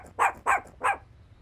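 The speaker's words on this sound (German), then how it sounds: "Das ist ein bellender Hund," A cartoon dog gives three sharp barks in a quick, evenly spaced series against a quiet background, close and clear, with no talking.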